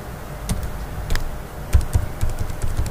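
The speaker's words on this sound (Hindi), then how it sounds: "यहाँ पे हम इंटर करते हैं पासवर्ड" Keys tap on a computer keyboard as a password is entered, a quick run of close, light clicks in an uneven rhythm over faint room noise.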